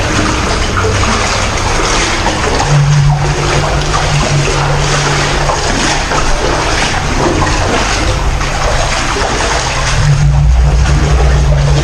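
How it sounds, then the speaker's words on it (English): Steady broadband rush of running water outdoors near a shopping area, loud and continuous throughout with a faint low hum beneath, no talk. "I hear water."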